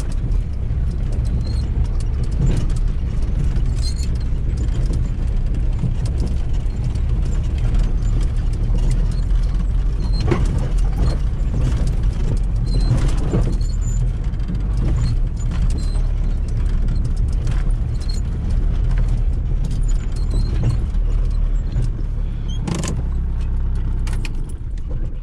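Car driving along a rough track to a hunting post, a steady engine drone with bumping and rattling throughout, loud and close, with clinking like jangling keys.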